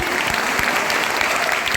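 Loud, dense applause from a crowd, continuous clapping throughout a short burst.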